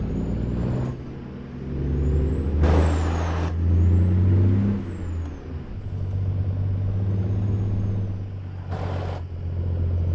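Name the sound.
truck parking air brake in video game American Truck Simulator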